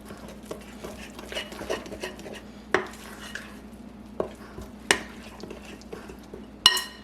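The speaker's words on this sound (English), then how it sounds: "we're going to mix that vanilla in really good" Vanilla stirred into cake batter in a bowl for a whole satsuma orange cake, a steady scraping and sloshing of spoon or whisk against the bowl with a few sharper knocks, close and alone without talk.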